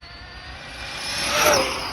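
An Arrma Big Rock 3S V3 RC truck on 5S power accelerating with a high, whining motor note that swells and rises in pitch to a peak near the end, close by.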